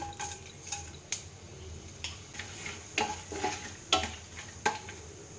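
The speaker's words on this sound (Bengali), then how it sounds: "ওই মাছ ভাজার তেলেই দেবো আমি গোটা গরম মশলা জিরে আর শুকনো লঙ্কা ফোড়ন" Whole garam masala, cumin and dried red chillies crackle and sizzle in hot oil left from frying fish, beneath scattered metallic clinks and scraping sounds, with a few sharp taps of a utensil against the pan.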